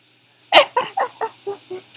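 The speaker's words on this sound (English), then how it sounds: "Chicken, sit on my bed. Just sit on my bed." A chicken in the Minecraft video game clucks in a quick series of about six short, clipped notes, close and clear with no talking over it.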